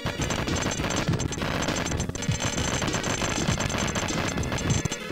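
Rapid, dense volleys of shots fire nonstop in the SNES shoot-'em-up Super Aleste, a loud, unbroken barrage of electronic gunfire layered over game music for the whole stretch.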